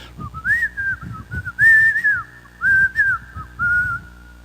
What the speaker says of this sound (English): she began to whistle and hum a song